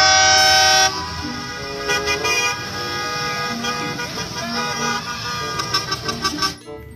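A toy school bus sounds a loud electronic horn toot, followed by a busy run of engine and melodic toy sound effects with repeated beeps, no talk.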